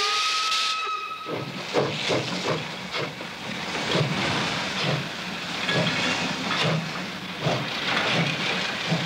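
A 1960s Reichsbahn steam locomotive hisses loudly, with bursts of escaping steam pulsing irregularly and a brief whistle tone near the start, close by and without voices.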